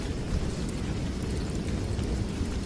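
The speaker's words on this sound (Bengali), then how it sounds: "বাইরে ঝমঝম বৃষ্টির শব্দে ভেতরটা কাঁপিয়ে তুলছে।" Heavy rain pours in a constant low roar, muffled and rumbling, heard from inside a tent.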